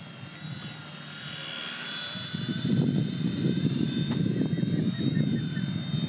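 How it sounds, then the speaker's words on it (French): A V911 Pro radio-controlled helicopter hovering close by, a steady high-pitched electric whine with fluttering rotor buzz that grows louder and rougher midway, alone without talk. "Il est sympa, hein, franchement, il est très sympa à piloter."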